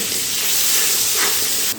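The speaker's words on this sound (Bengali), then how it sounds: "এবারে নুন আর হলুদের সঙ্গে এই আলুটা খুব ভালো করে ভেজে নিতে হবে" Potatoes frying with salt and turmeric, a steady broadband sizzle and hiss that holds evenly throughout with no voices, briefly dipping near the end.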